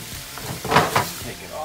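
Salmon pieces tossed into hot oil for a light sear, a brief burst of sizzling with a couple of soft pan knocks, close and fairly loud.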